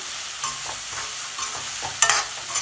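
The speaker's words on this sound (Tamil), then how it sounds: "உப்பு சேர்த்து வதக்குனிங்கன்னா தான் வந்து பாவக்காயில் உப்பு பிடிக்கும்" Bitter gourd pieces sautéed with salt in a pan, a steady soft sizzle with spoon stirring scrapes and a few louder clacks near the end, no voices.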